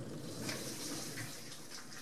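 A newly installed dishwasher runs its wash cycle, its water sloshing and spraying in a steady, continuous wash at moderate level, with no voices.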